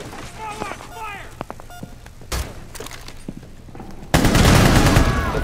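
Gunfire in Rainbow Six Siege: a lone sharp shot partway through, then a loud sustained burst of rapid fire at the end, with game voice lines heard earlier.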